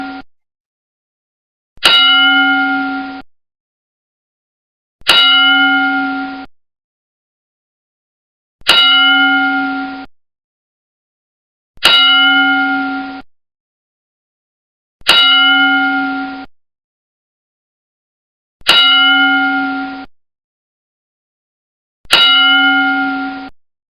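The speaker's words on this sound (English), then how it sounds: "please join me in a 10 bell salute to honor their memories" A memorial bell salute: a single bright bell is struck slowly and evenly, each clear clang ringing out alone and fading before the next, about every three and a half seconds.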